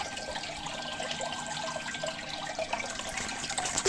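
Water sloshing and washing inside a 1.5-metre-long aquarium, a faint, continuous churning with small splashes and no voices.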